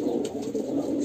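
Pigeons cooing in a neglected coop, a soft continuous low murmur of overlapping coos close by, with faint flutters above.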